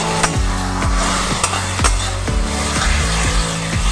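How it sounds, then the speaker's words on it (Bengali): Spice paste for a young goat curry sizzles loudly in a pan, close up, with regular stirring strokes scraping and knocking about twice a second over a constant frying hiss. "খুব ভালো করে মশলাটাকে কষিয়ে নিতে হবে"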